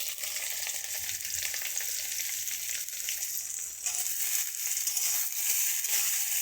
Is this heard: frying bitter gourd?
yes